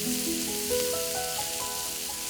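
White fish fillets seared in a hot pan for an Indian curry sauce recipe sizzle steadily up close, with light stirring and pressing noises over the hiss of oil and no talk.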